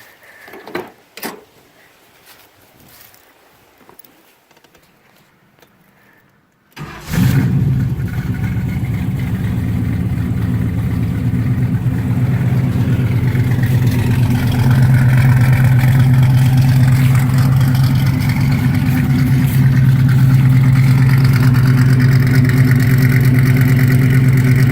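Chevrolet Monte Carlo fitted with a V8 from a 1974 Corvette cranks after a few quiet seconds, catches and settles into a loud, rough, continuous rumble that swells as it is revved.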